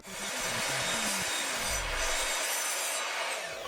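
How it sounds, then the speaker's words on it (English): Handsaw cutting mitered wood pieces for a dog bed, a close rasping back-and-forth sawing with quick strokes, continuous and alone. "so I used the handsaw instead"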